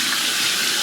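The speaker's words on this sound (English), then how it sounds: "Let me just wash my hands" Hands being washed under a running bathroom tap: a steady, close rush of splashing water that lasts the whole brief moment.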